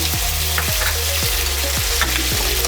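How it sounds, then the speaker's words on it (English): Onion paste hitting hot ghee with green cardamom, cloves, black peppercorns and cinnamon, a loud, continuous frying sizzle with a few sharp stirring scrapes repeating through it and no voices. "Love that sizzle."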